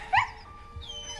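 A pet dog named Audi whines and yips in a few short, high-pitched bursts, close by and fairly quiet, with a brief whimper trailing at the end.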